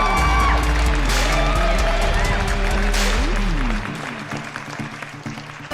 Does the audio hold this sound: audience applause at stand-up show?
yes